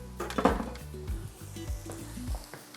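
Hash browns fry in a pan while a breakfast for burritos is cooked, a steady sizzle running under several low knocks and scrapes of a spatula or utensil turning them, close and moderately loud.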